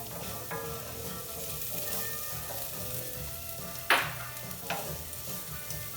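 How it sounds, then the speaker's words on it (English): Shallots and garlic sizzle quietly in butter and oil in a pan, a soft steady frying hiss with a couple of sharper bursts as they are tossed around, no talking. "we're gonna go ahead and throw our shallots and garlic in there"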